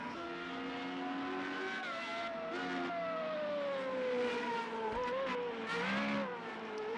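Formula Renault race car in a racing video game spinning around at the Algarve circuit, engine tone sliding steadily down and back up with squealing tires, a continuous moderate whine throughout.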